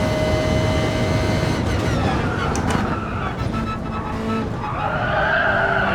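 A race car in Gran Turismo Sport braking hard into a corner, a loud roaring engine note that drops as it slows, followed by tyre squeal and the engine climbing again as the throttle comes back on.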